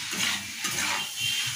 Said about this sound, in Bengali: তো সব মশলাগুলো আমি একসঙ্গে লতিটার সাথে মিশিয়ে নিই।